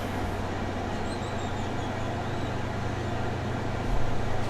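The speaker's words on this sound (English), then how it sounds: "Can't miss that train." A train rushes past in the Spider-Man 2 video game with a constant loud rumbling roar and a faint high squeal, swelling a little near the end, with no voices.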